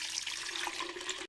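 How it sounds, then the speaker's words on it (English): Stock poured through a china cap strainer into a container in a cooking video game, a brief steady watery rush that cuts off abruptly. "Pour the stock through the china cap into the container."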